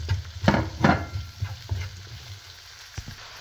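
Onions frying in a pan for a pork mince dish sizzle softly under several sharp stirring scrapes and clatters that thin out toward the end.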